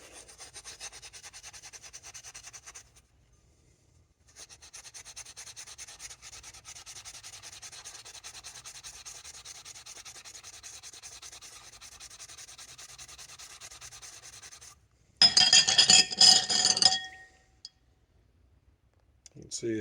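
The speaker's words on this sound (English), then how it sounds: "you take some of the really fine steel wool and a little bit of elbow grease" Fine steel wool rubbing over rusty chrome in long, steady scratchy strokes, with a pause between passes, followed by a louder, brief burst of harsher scrubbing near the end.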